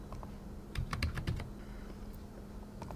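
Password entered on a computer keyboard: a quick burst of several close key taps clustered together, then a couple of scattered single keystrokes in a quiet room.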